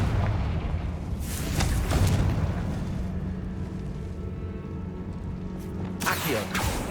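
Explosions from the Confringo fire spell in the video game Hogwarts Legacy, two rumbling blasts a few seconds apart over a low, steady in-game background drone.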